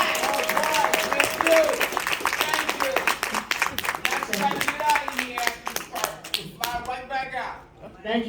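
Lively applause and clapping from a crowd at a Mother's Day brunch, dense and close, rolling on steadily for several seconds before thinning into scattered claps, with a voice briefly speaking over it.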